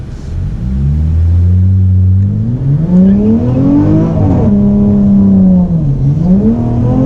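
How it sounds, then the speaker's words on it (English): A V6 Dodge Challenger on line lock revs hard through its exhaust, a loud, close engine roar climbing in pitch, dipping briefly at a shift as it bogs down, then rising and falling again with no talking. "That exhaust sounds so good, but like when it shifted there, it bogged down"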